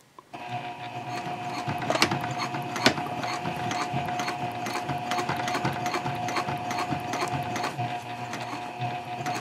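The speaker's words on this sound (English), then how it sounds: "I'm just going to be sewing right where that seam line is" A sewing machine stitching in the ditch along a seam of a messenger bag, running with a steady fast mechanical whir and rattle throughout, close and continuous, with a couple of sharper clicks early on.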